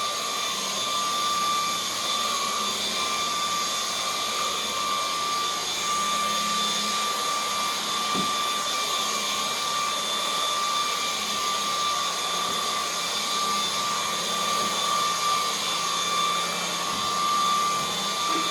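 A cordless battery stick vacuum, MOOSOO or Dreametech, runs close and loud for the whole stretch, giving a steady high-pitched whine over a broad airy roar with no break.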